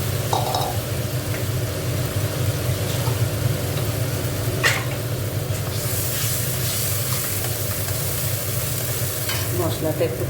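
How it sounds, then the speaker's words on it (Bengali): Spice paste for a rohu fish curry fries in a pan, giving a steady loud sizzle and hiss with occasional stirring scrapes throughout, and no talking. "মশলাটা একটু কষে নিই।"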